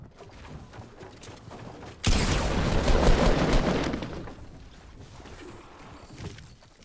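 Gunfire from a sniper in a Fortnite Battle Royale match, a sudden loud burst of shots with a dense crackling tail that fades over a few seconds above quieter game ambience.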